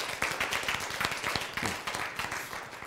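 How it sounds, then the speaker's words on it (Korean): An audience at a Korean church lecture on the Bible and science applauds on cue, a dense, steady burst of many hands clapping at moderate volume for about three seconds, with little talk over it. "박수!"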